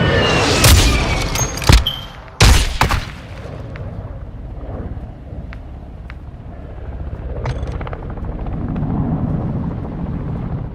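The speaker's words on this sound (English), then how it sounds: "Enemy attack helo in the area." Enemy attack helicopter in the Warzone video game, rotor drone amid sharp loud bangs of gunfire or explosions early on, then a rumbling hum with scattered distant shots.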